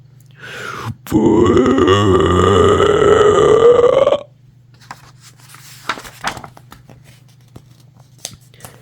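A long, loud, gravelly burp imitated by a human voice during a quiet ASMR story reading, lasting about three seconds, followed by quiet with scattered small rustles.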